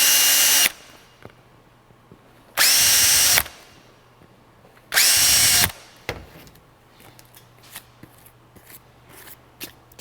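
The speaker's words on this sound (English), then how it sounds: "So just gonna countersink these a bit." A power drill countersinks holes in a motocross fork guard, with three loud, sustained whirring bursts separated by pauses and small clicks and handling noises in between.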